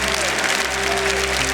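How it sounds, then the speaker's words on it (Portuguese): A church congregation claps loudly and continuously during a worship service, the steady applause mixed with voices and sustained musical tones underneath. "Vamos aplaudir o Senhor maravilhoso. Se essas palmas são para Ele, vamos bater muito,"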